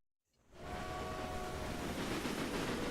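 Trains in the rail-management game Railway Empire rumble steadily along the tracks, a broad, continuous roar that swells in within the first half-second and then holds constant, with faint tonal hums riding on top.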